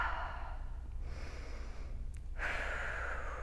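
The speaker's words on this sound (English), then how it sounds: "Again, a few inhales and exhales." Deep breathing during a TRX strap stretch, slow inhales and exhales drawn close to the microphone as a steady airy rush, with a brief sharp snort-like breath in the middle.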